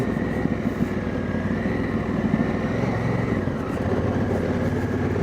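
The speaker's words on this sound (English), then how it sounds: "Just let the engine do the braking as we roll down." A Honda Africa Twin motorcycle engine-braking downhill on a narrow bush track, its engine droning steadily and close with a low, rough rumble throughout, no talk over it.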